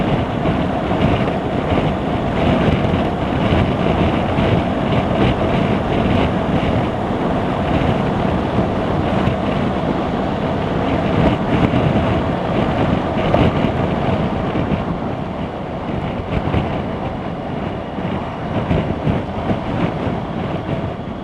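Gusting wind buffets the microphone of a rider on a 2018 BMW R1200GS Adventure motorcycle, a broad, rushing roar that swells and eases over steady road noise.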